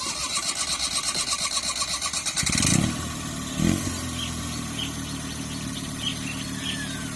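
A small two-cylinder engine in a 1968 Daihatsu Hijet S40P, running on gas, putters with a rapid, even chug, then catches louder before settling into a steady idle nearby.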